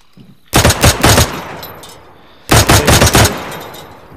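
Two loud bursts of rapid automatic gunfire in a video game firefight, each a tight string of sharp cracks lasting under a second, separated by a short pause with a faint reverberant tail.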